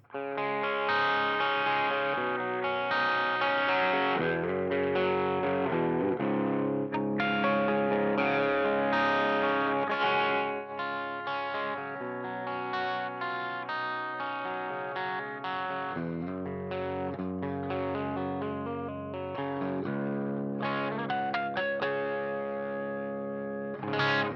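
A clean electric guitar through a Universal Audio UAFX ANTI 1992 high-gain amp pedal, pre-gain turned down, plays chords and melodic lines continuously, bright and ringing with a touch of shimmer, loud and steady without pause.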